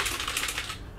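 Quick, light clicking of typing on an IO Gear Hver ProX mechanical keyboard, several soft keystrokes in a rapid run that fades toward the end.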